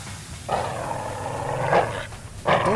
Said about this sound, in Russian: Это чихуахуа в наморднике.